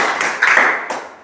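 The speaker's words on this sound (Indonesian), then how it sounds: "kita berikan tepuk tangan" Students in a classroom clap their hands briefly, a short loud burst of clapping that thins out and fades toward the end.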